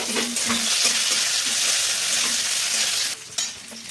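Cashews, raisins and green chilli fry in a pan for chana dal, making a loud, close, steady crackling sizzle with a few faint stirring taps, easing slightly near the end.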